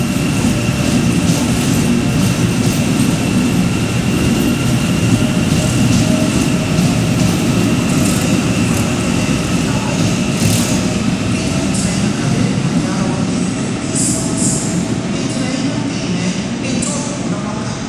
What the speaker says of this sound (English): Then I caught AM 238 leaving with the 1426 to Manukau